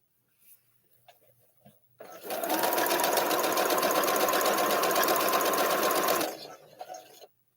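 After a few soft taps, a sewing machine stitching a quilt block runs in a steady, fast, even whir for about four seconds, close and clear, then stops with faint handling sounds.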